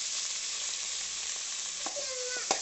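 Finely chopped onions with cumin seeds fry in hot oil for matar paneer masala, giving a steady, close, bright sizzle with a couple of brief stirring taps near the end.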